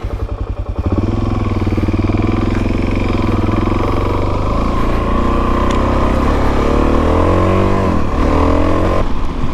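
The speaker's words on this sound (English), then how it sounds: "The engine sounds so much better." A Suzuki DRZ400S motorcycle engine, recently fixed after a loose cam chain, runs loudly up close, idling with a steady throbbing rumble and then revving up and down toward the end.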